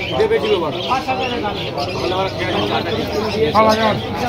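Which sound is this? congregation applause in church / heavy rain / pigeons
pigeons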